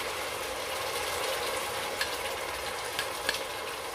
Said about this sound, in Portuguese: Agora, vamos colocar aqui nosso tomate triturado.